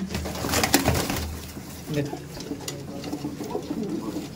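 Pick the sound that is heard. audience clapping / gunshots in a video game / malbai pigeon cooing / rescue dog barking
malbai pigeon cooing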